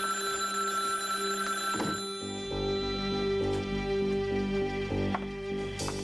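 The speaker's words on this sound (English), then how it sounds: "Matthew, you get the phone" A telephone bell rings in a 1988 television drama, repeating in short bursts from inside a house over soft background music, fairly faint and without talk over it.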